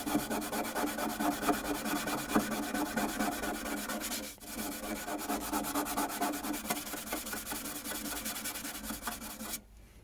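Steady abrasive rubbing of sandpaper over car paintwork in an engine bay, continuous back-and-forth scratching close up, no voices.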